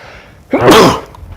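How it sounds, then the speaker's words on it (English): A single loud, sharp sneeze bursts out after a brief breath, then fades into quiet. "I knew that sneeze was coming out."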